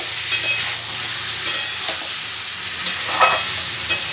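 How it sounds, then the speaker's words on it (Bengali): Mixed vegetables with salt and turmeric are stirred in a frying pan for a Bengali vegetarian dish, giving a steady close sizzle broken by a few scraping stirs. "ভালো করে এগুলো সব একসাথে মিশিয়ে দেবো।"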